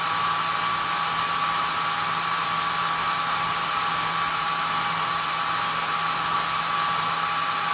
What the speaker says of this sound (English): I'm just gonna heat up the area a little bit that we want to fix.